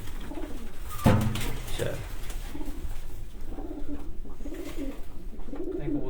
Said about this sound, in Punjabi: ਇਹ ਜੀ ਲਾਲ ਪਰੀ ਕਬੂਤਰ ਹੈ ਜੀ